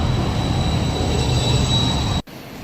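Tram rolling past on rails in a Swiss city, a steady loud rumble with a thin high wheel squeal, close by, cutting off abruptly near the end.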